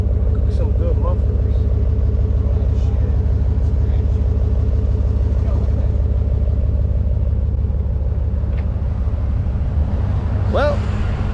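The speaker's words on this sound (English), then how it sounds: "now it sounds even nicer. Just listen to that exhaust" A deep, steady V8 exhaust from a 2021 RAM 1500 HEMI pickup with the resonator removed rumbles continuously at close range, loud and throbbing, with faint voices now and then.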